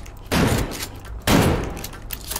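Gunfire in the video game The Backrooms, two loud, sustained bursts of rapid shots, each a dense roar of noise lasting about a second, close and alone without talk.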